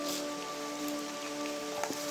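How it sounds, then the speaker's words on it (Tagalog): Dense, steady patter of rain falling throughout, with a faint hum underneath and a couple of small taps near the end. "Umuulan na."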